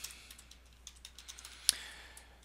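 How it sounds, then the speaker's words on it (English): Light keystrokes tap on a computer keyboard in an irregular run of soft clicks, one sharper key press standing out, close and alone with no talk. "and type in whatever you'd like to type."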